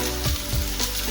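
Shallots fry in hot oil that already holds popped mustard seeds for a Kerala-style thoran, producing a loud, close, continuous sizzle with a few soft thumps.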